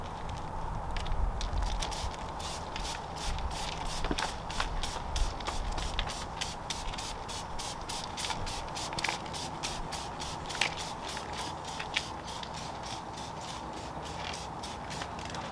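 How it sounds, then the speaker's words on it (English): Rapid, evenly spaced bursts of a spray nozzle firing repeatedly over a hissing background, close and steady throughout, as CarPro Tar-X tar remover is sprayed onto a car. "we're going to use CarPro Tar-X anyway, and I use this the same way as I use the iron oxide, so just spray it on"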